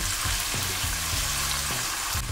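Fried chicken is stirred with oyster sauce in a hot pan. There is a loud, continuous close sizzle with rhythmic scraping stirs about every half second, and no talking.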